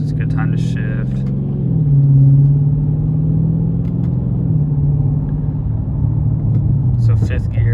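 A car engine drones and rises in pitch as gears are shifted with paddle shifters near 2,000 RPM, the tone stepping down at each shift, with a voice talking over it.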